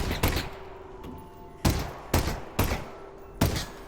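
Gunshots in Half-Life: Alyx, a burst of loud, close firing: one shot, a pause, then four more heavy cracks in uneven succession, each with a booming low-end thump.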